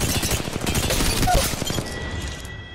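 Rapid gunfire in the video game Apex Legends Mobile, a dense loud burst of shots packed close together that fades toward the end, with no talk.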